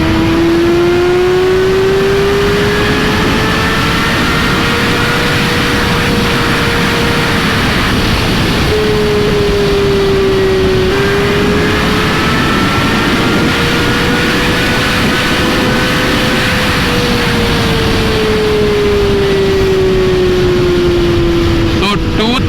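A Kawasaki ZX6R superbike engine revving hard toward redline in fourth gear: a loud, continuous high-pitched engine whine that rises and falls slightly as it holds near the limit, with strong wind roar throughout.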